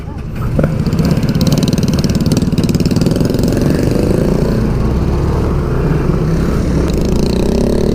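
A motorcycle engine running steadily and close, a loud throbbing drone with a rattling pulse that holds throughout.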